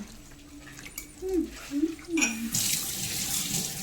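A voice speaks briefly, then water gushes from a tap in a steady, loud hissing stream.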